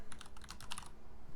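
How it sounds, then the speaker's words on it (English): Quick, light tapping on a computer keyboard, a short run of faint keystrokes that stops after about a second. "We'll find out the official name here as I type her into the box."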